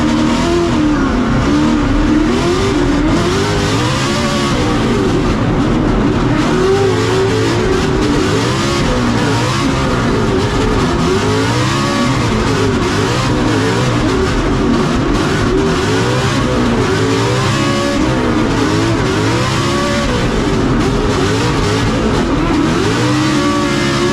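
RTR Mustang and rival Formula Drift cars battle at Englishtown, engines screaming near the limiter with constant revving swells and tire noise, loud and unbroken throughout.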